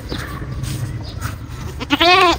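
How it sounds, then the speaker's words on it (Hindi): Household goats, both male and female, bleat near a home yard; soft, scattered farmyard noises lead into one loud, close, wavering bleat near the end. "ये प्यारे प्यारे बकरे हैं।"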